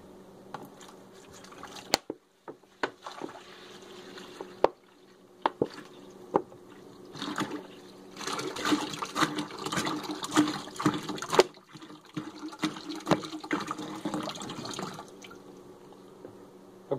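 Two and a half litres of water poured into a container while making homemade liquid laundry soap, heard as uneven splashing and trickling that grows denser and louder midway, broken by a few sharp knocks.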